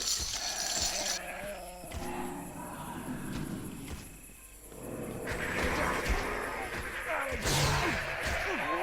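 Undead sheep in The Bard's Tale video game bleat in wavering, nasal cries among game sound effects and music, with someone talking over parts of the scene.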